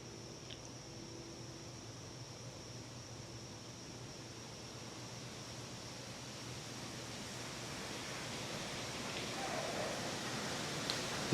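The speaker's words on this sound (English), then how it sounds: "You can hear that wind." Wind from a hurricane far out at sea blows over a suburban street, a faint, steady broadband rush that slowly swells louder toward the end, with no voices.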